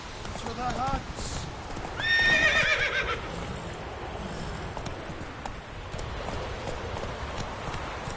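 Horse hooves clip-clop in a quick galloping rhythm as Roach, a horse in the Witcher 3 video game, whinnies loudly, with a voice speaking over the galloping.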